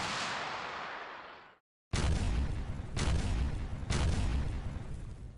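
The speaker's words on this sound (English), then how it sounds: "They quickly locked onto the tank and fired." Animated missiles launching at a tank: a long roaring whoosh that fades out, a brief silence, then a heavy continuous rumble punctuated by three sharp booming blasts.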